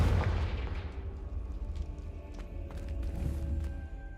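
Confringo, the explosive fire spell, is cast while exploring in the video game Hogwarts Legacy. It starts with a heavy booming burst that fades into a rumbling tail, followed by faint crackling and small ringing accents.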